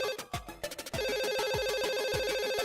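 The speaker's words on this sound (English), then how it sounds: "The blue-eyed girl hears her phone ring but doesn't understand where the sound comes from." A mobile phone rings with a repeating electronic ringtone pattern, loud and close, after a short burst of other tones at the start.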